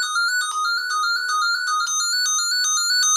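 An old 1960s telephone rings continuously with a bright, pulsing electronic-sounding trill, steady and fairly loud with no talking.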